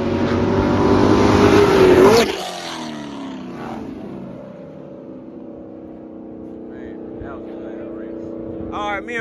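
Two 2010 Chevrolet Camaro SS cars racing past, one running E85, with a loud engine roar that rises and drops sharply after about two seconds, then a fading rumble as voices talk over it.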